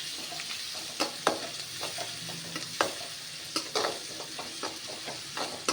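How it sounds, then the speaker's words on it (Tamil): Eggplant and rice mixture frying in oil in a pan, a steady sizzle broken by sharp scraping clicks from a stirring spoon at irregular intervals, close and moderately loud, with no voices. "இப்போது நம்ம இதை நல்லா ஃப்ரை பண்ணுறோம்"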